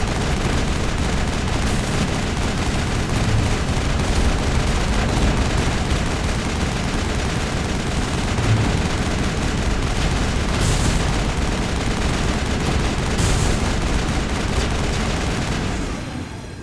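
Gunfire in a firefight in the sci-fi shooter Mass Effect, a loud, dense, continuous stream of shots and blasts that carries on for the whole stretch before tailing off at the end.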